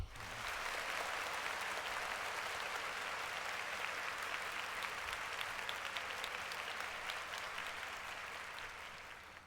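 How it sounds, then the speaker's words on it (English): Applause for the singer rings out steadily from a large crowd, loud and sustained for about nine seconds and tapering slightly at the end, with no talking over it. "Clap it up for her."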